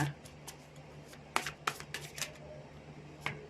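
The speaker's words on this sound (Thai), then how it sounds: "ไพ่ใบใหญ่มาก สับยากมาก" Large new tarot cards are shuffled up close in a quiet room, giving several short, crisp riffling and slapping bursts separated by pauses.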